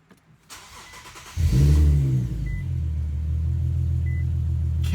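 An Infiniti Q50 fitted with new aFe Pro Dry air filters cranks and fires up. A sudden loud catch gives way to a deep, steady idle rumble that runs to the end.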